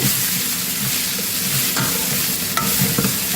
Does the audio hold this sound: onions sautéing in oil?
yes